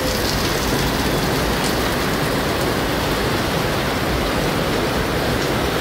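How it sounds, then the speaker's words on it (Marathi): Heavy rain pours down steadily at a favourite spot, a dense, unbroken roar of drops beating on surfaces that stays loud and even from start to finish, with no voices. "पाऊस बघा"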